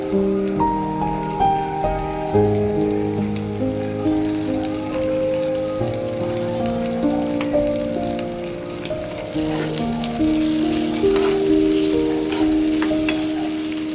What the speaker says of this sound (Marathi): कांदा व्यवस्थित फ्राय झालेला आहे तेलामध्ये. आता टोमॅटो,